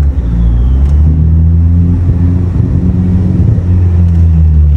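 A loud, close Yamaha XT660 motorcycle engine rumbles and revs steadily, its low throaty growl rising and falling slightly throughout, with no voices.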